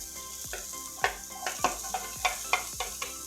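Onion rings frying in olive oil in a pan, a constant close sizzle broken by a series of regular scraping, stirring strokes about every half second.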